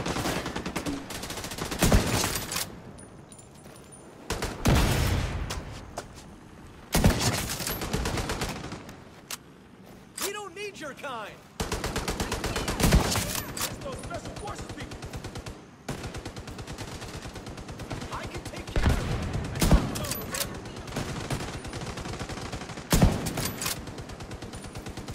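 Gunfire from The Division 2 co-op combat, with repeated bursts of automatic shots separated by short pauses, loud and close throughout.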